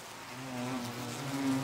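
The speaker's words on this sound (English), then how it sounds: "The hornets hover outside the hive, waiting to pick off tired bees" Asian hornets buzz and drone outside a beehive in a soft, continuous hum, the pitch wavering slightly as they hover.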